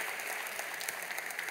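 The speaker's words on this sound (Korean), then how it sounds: "크게 박수로 환영하시지요" Applause from a church congregation welcoming newly baptized members during a Sunday service, a steady wash of clapping throughout, moderately loud with no talking over it.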